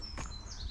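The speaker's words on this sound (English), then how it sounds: "পাখির শব্দ খুব সুন্দর লাগে পাখির চিরমিরি শব্দ" A bird gives a short, high chirp over a soft outdoor background on a hillside at Reigate Hill near London, faint and fairly distant.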